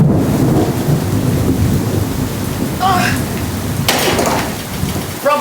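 Heavy rain pours down during a Florida thunderstorm, a loud dense hiss of drops on surfaces with rumbling thunder underneath and a couple of sharper knocks or clanks nearby.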